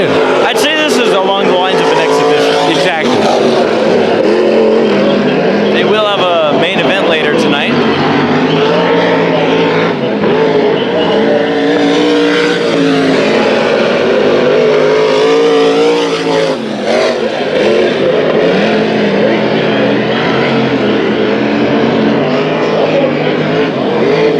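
Race Saver sprint cars roar through a heat race at Bakersfield Speedway, a loud, continuous wall of engine noise with rising and falling revs as the pack circles the dirt track, and an announcer talks over it throughout.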